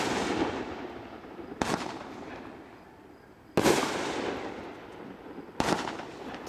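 A 10-shot speed racer fireworks cake finishing with a willow: three loud, sharp reports spaced about two seconds apart, each trailing off into a crackling, hissing fade.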